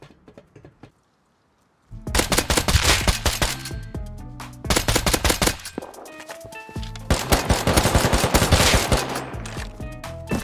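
Loud, rapid gunfire from a video game rattles in dense automatic bursts, stopping briefly between volleys before resuming with heavy, continuous shooting.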